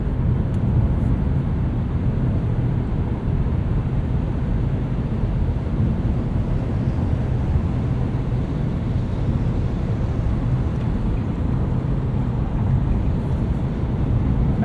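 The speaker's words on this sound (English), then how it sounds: "Not that anyone who buys a Nissan Kicks is going to be driving it like this." Cabin of a 2020 Nissan Kicks SR driven hard, a steady loud low engine and road drone with wind noise running continuously throughout, no speech.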